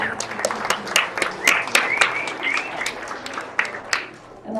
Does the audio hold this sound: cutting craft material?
no